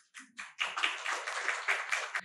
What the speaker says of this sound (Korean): 무대로 나오실 때 큰 박수 부탁드립니다